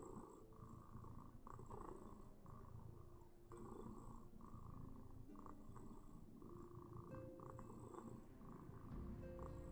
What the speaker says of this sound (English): Big purrs.